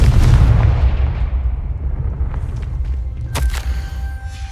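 A Confringo explosive spell in Hogwarts Legacy goes off with a heavy, close blast that rumbles away slowly, followed by a second sharp burst near the end.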